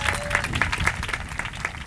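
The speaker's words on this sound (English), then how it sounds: "let's give them a round of applause." An audience at a groundbreaking ceremony at Pace Early College High School applauds the school drumline, a brief, moderately quiet patter of scattered claps with some distinct individual hand strikes.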